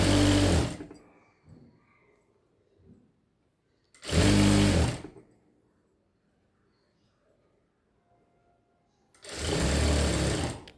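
A sewing machine stitches a saree hem in three quick whirring bursts, close and loud, with quiet pauses between runs.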